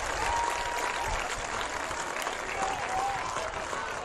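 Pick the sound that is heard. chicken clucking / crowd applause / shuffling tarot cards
crowd applause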